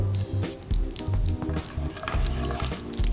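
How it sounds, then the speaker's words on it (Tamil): Mustard seeds pop and splutter in hot oil in a pan for tempering, a close busy sizzle broken by soft crackles and bursts. "கடுகு எண்ணெயில் நல்லா பொறிஞ்சி வரணும்"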